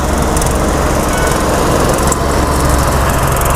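Japanese-designed, Taiwan-built RB-A2 single-wheel cultivator with a Japanese engine and tilling blades fitted, running steadily nearby with a loud, continuous buzzing drone that never pauses.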